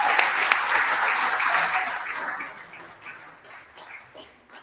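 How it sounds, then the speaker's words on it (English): Conference audience applauding at a nonprofit gathering, a loud sustained burst of many clapping hands that gradually thins and fades, leaving scattered claps by the end. "So round of applause for Lake, making it happen in Oregon."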